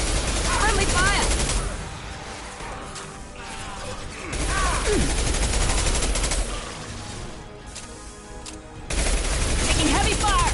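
Heavy gunfire in the video game Mass Effect 2, dense bursts of shots and mechanical clatter that come in waves and ease off in between, with voices calling out over the battle.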